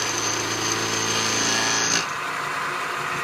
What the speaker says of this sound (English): Really taking light cuts and milling it off.